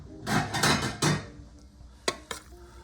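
Pasta and spinach are tossed in a pan, with scraping and clattering of a utensil against the metal, a couple of louder stirring bursts followed by two sharp knocks, close up.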